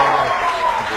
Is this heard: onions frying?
no